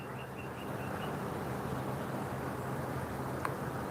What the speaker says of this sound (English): Birds are singing pretty cool, to be honest.